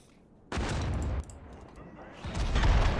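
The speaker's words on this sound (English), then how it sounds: "So the T-95s are firing." T-95 tanks fire in the Total War 1942 strategy game, a loud close burst of cannon blasts with a sharp onset and a second heavy report near the end.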